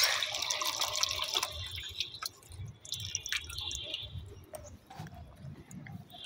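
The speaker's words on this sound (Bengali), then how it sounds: "কলটা বন্ধ করি।" A water tap pours into a full bucket, then it is shut off, leaving scattered drips and trickles into the water, close by and fairly clear.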